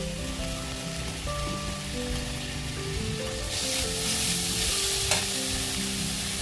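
Mushrooms frying in a hot pan with soy sauce and green chilli sauce for dry chilli mushroom, a dense crackling sizzle with steady stirring that swells louder partway through, close and continuous without speech.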